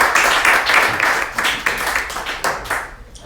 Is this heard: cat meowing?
no